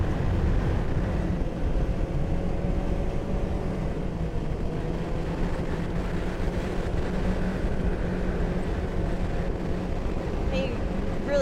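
Four-stroke snowmobile engine running steadily on a trail, a continuous low droning hum with wind noise, holding a fairly even level throughout.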